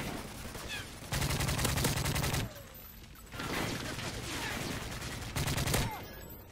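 Call of Duty: Modern Warfare 3 gunfire crackles in loud bursts of rapid automatic shots, alternating with brief lulls that carry distant pops.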